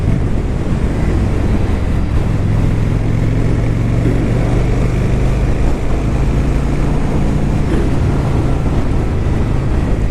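A 2013 Honda Shadow 750 Phantom motorcycle being ridden, its engine drone buried under constant loud wind rush across the microphone.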